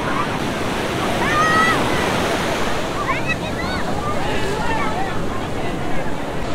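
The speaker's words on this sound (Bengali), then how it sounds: "দেখো একবার সমুদ্রের দৃশ্যটাই দেখো, ঢেউ দেখো কত বড় বড় ঢেউ রে ভাই।" Big ocean waves break and wash loudly onto a crowded Puri beach on the Bay of Bengal, a steady roaring surf with wind noise and some voices over it.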